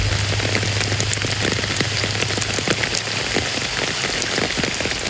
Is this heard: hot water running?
no